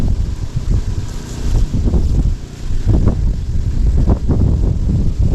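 Strong gusting wind buffets the microphone outdoors on a fishing trip, a loud continuous low rumble that surges and eases over several seconds with no talk.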